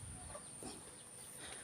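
Chickens cluck softly beside a nest of woven material in a rural Sundanese village, a few scattered calls over a steady low background hum.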